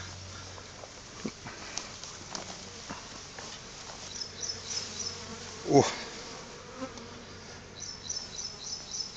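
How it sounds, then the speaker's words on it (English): Bees buzz steadily in a noisy outdoor setting, with a brief closer whine passing by and a short voiced exclamation. "bees, and this is very, very dangerous."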